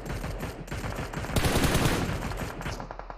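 Rapid bursts of gunfire from a PUBG Mobile match ring out continuously at close range, dense and loud for the whole stretch, swelling heavier midway with no talking.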